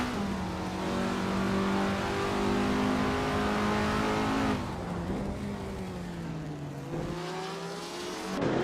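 Several racing cars, one a 1961 MG, rev and drone steadily in a racing video game, their engine tones rising and falling together, with a shift and a drop near the end and no voices.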